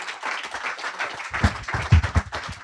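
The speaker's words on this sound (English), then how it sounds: "Let's keep the applause going." Audience applause at an economic outlook event, a steady wash of many hands clapping with a few louder bursts, recorded from within the hall with no talk over it.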